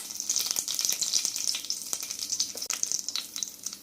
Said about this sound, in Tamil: பட்டை, கிராம்பு, ஏலக்காய் போட்டுக்கலாம். கூட 2 பிரியாணி இலை போட்டுக்கிறேன்.